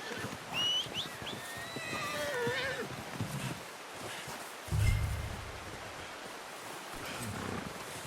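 A horse in the open-world video game Red Dead Redemption 2 snorts and whinnies amid outdoor ambience, with a heavier thump and rumble midway and no talk.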